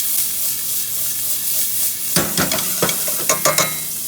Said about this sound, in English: I'm going to saute this up.